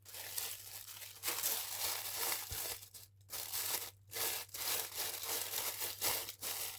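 Pattern paper from mail being unwrapped and crinkled, bursts of close crackling and rustling broken by short quiet pauses, with a low steady hum underneath.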